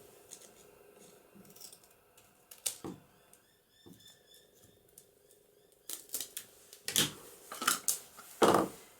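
Masking tape being cut with scissors for a velum acetate pocket: a few sharp snips and clicks near the end, preceded by quieter handling rustles.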